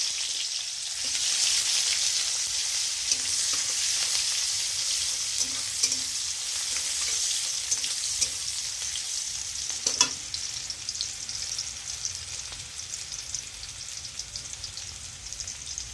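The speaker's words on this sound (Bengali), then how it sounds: "এখানে দিয়ে রেখে দিলাম কুচিয়ে রাখা পেঁয়াজ।" Chopped onions sizzle with cumin in a hot wok, a steady bright hiss that stays close and even, broken by occasional light clicks and scrapes of stirring.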